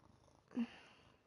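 A cat in the video game Dishonored 2 gives a short, soft purr or mew, a single brief sound about half a second long against a near-silent game background.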